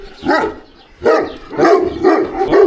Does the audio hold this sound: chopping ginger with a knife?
no